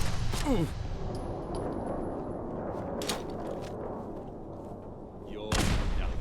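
Frag grenade bursts in Fallout London amid loud, sustained combat noise, with a heavy rumbling blast bed, a sharp crack near the start and another strong explosion near the end.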